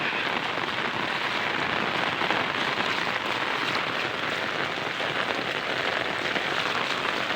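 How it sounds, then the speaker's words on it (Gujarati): Heavy monsoon rain pours steadily on a flooded rural farmstead with houses nearby, a dense, unbroken roar of drops on surfaces, loud and close throughout with no voices. "ફૂલ વરસાદ શરૂ છે।"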